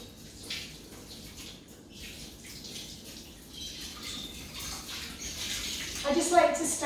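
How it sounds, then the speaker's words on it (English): Hot water running from a tap onto a mop pad, a soft uneven splashing and trickling that grows louder toward the end, with a faint voice underneath. "I'm just going to wet the pad, and the product is in the body of the machine."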